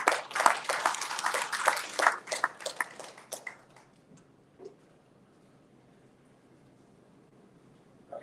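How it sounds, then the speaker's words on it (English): A small audience claps after a presentation at a book launch, a fairly quick burst of scattered hands that thins out and fades to near silence after about four seconds, leaving faint room noise. "Give a round of applause."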